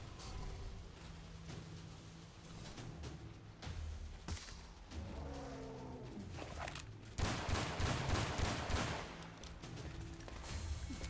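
Gunfire in Primal Carnage arrives in scattered sharp bursts and volleys over a rumbling game background, growing louder and denser toward the end, no talking.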